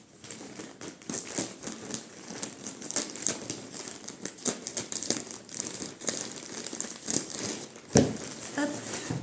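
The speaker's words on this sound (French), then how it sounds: "Je vais prendre les ciseaux, ce sera mieux." Scissors cut open a large plastic package of yarn balls, giving crinkling and crackling plastic, snips and rustles close up in irregular bursts, with a sharper crackle near the end.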